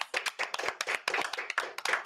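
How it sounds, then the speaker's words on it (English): A studio audience applauds a guest segment on a San Diego community show, with dense, uneven clapping in bursts that rises and dips across the clip, fairly close and with no talk over it. "applause."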